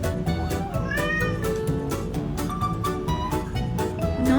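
Close, insistent meowing from a hungry house cat, several drawn-out cries repeated one after another with short pauses between them.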